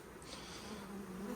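Honey bees buzz steadily around a beekeeper in a protective suit just before a storm, a close, continuous droning hum with no talking.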